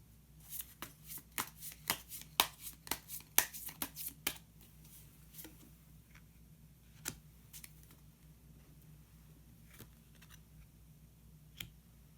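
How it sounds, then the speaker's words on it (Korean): Tarot cards shuffled and drawn from a deck, a quick run of crisp close slaps and riffles early on, followed by a few sparse single card flicks in a quiet room. "그러면 히든 카드를 한 장 더 뽑아보도록 하겠습니다"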